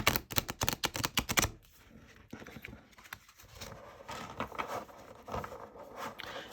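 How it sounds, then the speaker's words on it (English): Little Monsters Tarot cards are shuffled by hand, opening with a quick burst of sharp card slaps and clacks, then settling into softer, uneven rustling and riffling close by. "And use my whole hands to shuffle."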